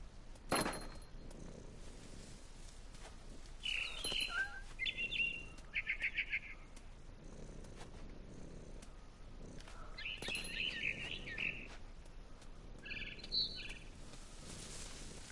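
Chirps and tweets from a small, frightened bird in the video game What Remains of Edith Finch, coming in short bursts over a steady background hiss.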